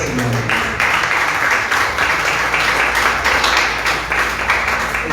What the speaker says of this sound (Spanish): Dar un aplauso bien fuerte al Señor.